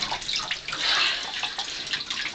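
Water runs steadily into a bathtub while hair is being washed, a continuous close splashing stream for a couple of seconds.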